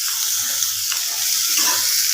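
Onions fry in a pan with a constant, hissing sizzle and soft stirring scrapes, close and unbroken, with no talking.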